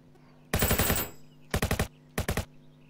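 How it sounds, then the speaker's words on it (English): Gunfire in Roblox Jailbreak striking metal and concrete: one long rapid burst of loud shots, then two shorter bursts, all close and alone. "I'm shooting metal. Well, oh, look, I'm shooting concrete."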